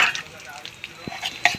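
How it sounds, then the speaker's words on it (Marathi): Cumin, curry leaves and asafoetida crackle in hot oil as a tempering for a green masala peas and potato bhaji, giving sparse, sharp pops and a faint sizzle, fairly close and without talk. "आता आपली फोडणी तडतडली"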